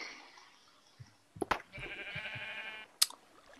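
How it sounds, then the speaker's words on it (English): Sheep bleating in a video game, a short sustained bleat from a trapped animal heard alone, with a few soft clicks and a sharp tap before and after. "Oh, there's 3 sheeps."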